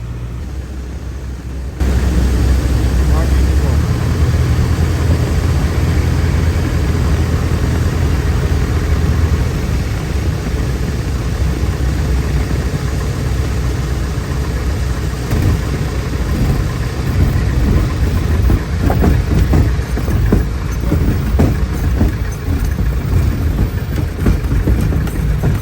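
Loud, steady engine drone and wind roar from inside a Piper Cub light aircraft coming in to land, a constant low rumble with broadband rushing that starts abruptly and holds near-level throughout.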